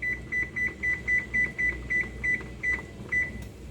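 Kitchen timer being set while cooking tapioca with corn and apricots, giving about a dozen short, clear electronic beeps in quick succession, moderately loud over quiet room noise.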